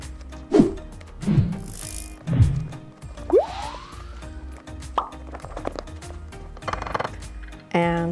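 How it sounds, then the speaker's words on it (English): A room-temperature egg is stirred into peanut butter batter, giving close, wet squelching and plopping scrapes of a utensil in a bowl that repeat in an uneven rhythm, with no talk. "Now we're going to drop in 1 room temperature egg. Get that stirred in."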